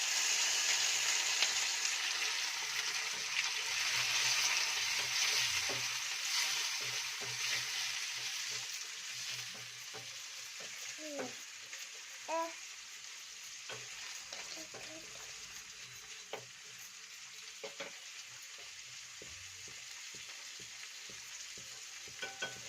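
Onions and tomatoes fry in a pan with a soft continuous sizzle, while a spoon stirs and scrapes in scattered clicks and knocks; the hiss fades gradually over time.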